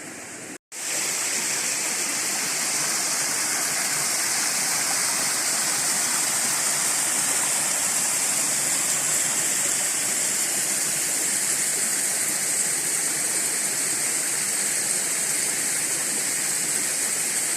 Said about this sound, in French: Nous approchons des chutes d'eau.